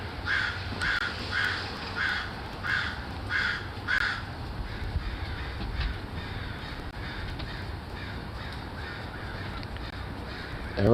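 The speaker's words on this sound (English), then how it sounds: "There's like packs of crows." A pack of crows caws over and over, several birds calling in quick repeated bursts against a steady background of wind or ambient noise; the calls are mid-distance and gradually thin out toward the end.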